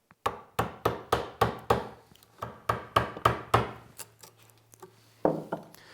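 Chisel tapped with a mallet through a plywood arm, a series of sharp woody knocks in quick, even bursts with brief pauses, close and clear with no talking.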